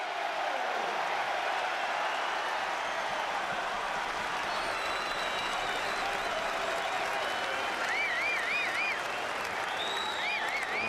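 Rugby crowd at a Leicester Tigers home match versus Ulster applauding steadily as the second half begins, a dense, continuous wash of clapping across the whole stand with whistles and faint voices rising near the end.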